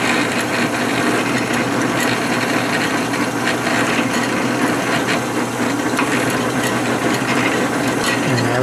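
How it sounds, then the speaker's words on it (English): Drill boring into metal while building a homemade Yagi TV antenna, a steady, dense grinding and rasping hum that runs unbroken and fairly loud throughout, with no voices. "when you're drilling metal, whether you're using a drill press or a hand drill, you want to do it on the slowest speed you can."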